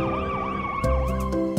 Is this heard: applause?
no